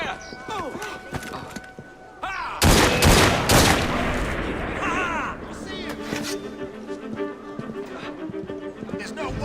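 Musket volley fire in Assassin's Creed Syndicate, a loud burst of several close, overlapping shots followed by scattered fighting noise and ringing tones, with voices talking around it.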